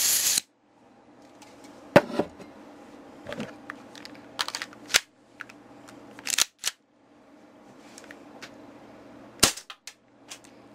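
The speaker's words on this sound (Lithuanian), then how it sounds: "ir išgirsit, koks garsas šaunant" Tokyo Marui Hi-Capa 5.1 gas airsoft pistol firing several sharp, loud cracks spaced irregularly across a quiet room, with softer handling clicks between shots.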